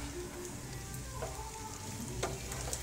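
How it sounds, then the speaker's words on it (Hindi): Macaroni fries on a high flame in a pan, giving a steady, dense sizzle that runs unbroken and close throughout, with faint occasional stirring scrapes. "अब थोड़ा हाई फ्लेम करेंगे हम, हाई फ्लेम में 1 मिनट के लिए ऐसे फ्राई करेंगे"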